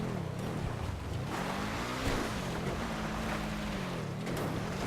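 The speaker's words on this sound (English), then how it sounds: "I love the noise that this car makes under engine braking." Pfister Comet Retro Custom car in a video game, engine braking while driving off-road: a steady, continuous engine drone whose pitch wavers and shifts throughout, with no voices.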